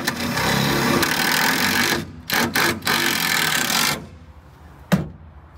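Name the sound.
drill going through Toyota Tundra sheet metal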